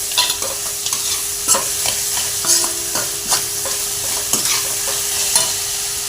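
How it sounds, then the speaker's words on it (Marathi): Fried peanuts are stirred through a sizzling pan for South Indian upma, with a continuous frying hiss broken by regular scraping and clinking strokes of the spoon against the pan; no one speaks. "आता मग यामध्ये आपण तळून घेतलेले शेंगदाणे आहेत ते घालूया"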